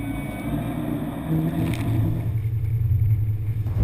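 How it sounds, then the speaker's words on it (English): A Sessa Marine FLY45 motorboat underway, its deep engine drone steady while waves slap and wash against the side of the hull, the rumble growing heavier partway through. "the waves are really hitting the side of the boat"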